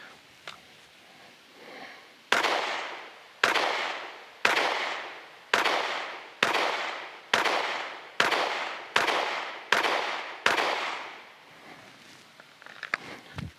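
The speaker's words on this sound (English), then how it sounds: "All right, 10 shots." Ten pistol shots fired at an outdoor range, each a loud sharp crack with a short decaying tail, spaced roughly one second apart in a steady rhythm, with quiet handling noise before and after.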